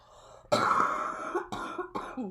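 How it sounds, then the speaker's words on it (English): A close, harsh cough in several bursts, a loud first hack followed by two or three shorter coughs, with no talking. "That was a nasty cough."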